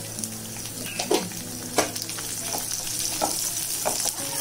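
Chopped onion fries in a pan for shavige bath, a constant close sizzle with a few soft clinks and scrapes of a spoon stirring at irregular intervals, and no talking.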